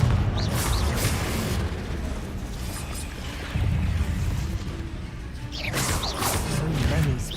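Confringo blasting spell explosions in the Hogwarts Legacy video game, several booming crashes and whooshes at the start and again near the end, loud, with a voice speaking over the game sound.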